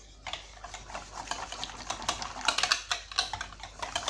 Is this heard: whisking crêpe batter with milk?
yes